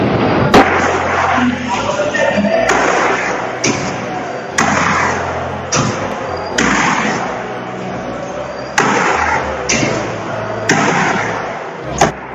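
Apartment building elevator doors with a contact fault slam together again and again, loud heavy thuds falling every second or so in an uneven rhythm over a rumbling background.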